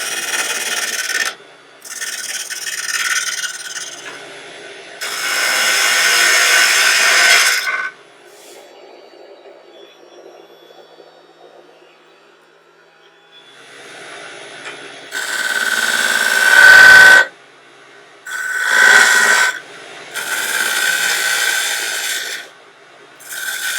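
A woodturning lathe cutting a German ring profile, with a glued insert, comes as loud bursts of scraping and rasping at the workpiece. Quieter pauses fall between them as the lathe is stopped and restarted.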